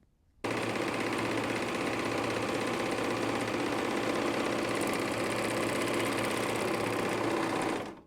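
A bernette b64/b68 serger runs continuously, sewing short-length 3-thread overlock stitches on fabric with a loud, steady, fast mechanical whir that starts abruptly and stops near the end.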